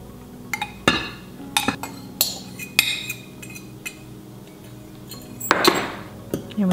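Muffin batter for chocolate peanut butter banana bread muffins being folded together with dry ingredients in a bowl, heard as a string of sharp utensil clinks and scrapes against the bowl at an irregular pace, close and fairly loud, with no talking.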